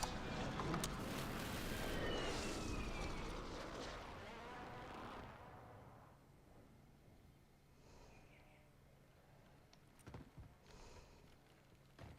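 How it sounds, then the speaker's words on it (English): Video game enemy airstrike: a burst of heavy, rumbling explosions up close, fading into quieter distant booms and a few sharp cracks. "Enemy airstrike in the area."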